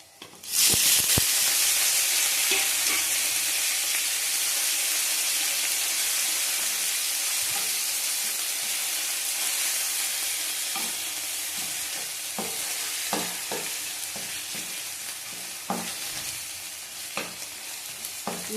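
Onion, garlic, ginger, tomato and chili paste hit hot oil in a pan with a loud, steady sizzle and hiss, softening slightly as a spoon stirs and scrapes at intervals.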